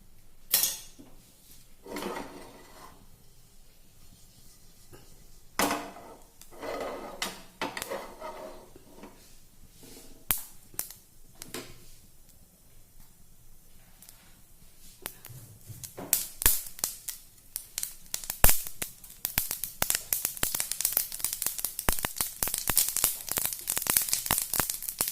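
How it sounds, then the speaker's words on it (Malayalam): A teaspoon of mustard seeds hits hot oil on a gas stove, starting with scattered pops and clatters that build into dense, rapid crackling and spluttering toward the end, close up with no talking. "കടുക് ഇട്ട് കൊടുക്കാം."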